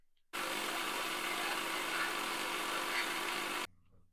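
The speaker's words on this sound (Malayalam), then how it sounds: "ഇത് കരിഞ്ജീരകം, ഇത് വേമ്പാട, ഇത് നമുക്കൊന്ന് പൊടിച്ചെടുക്കണം." Black cumin and neem seeds are ground into powder for a herbal hair oil, likely in an electric mixer grinder, giving a steady loud whirring roar that starts abruptly, holds evenly for about three seconds, then cuts off.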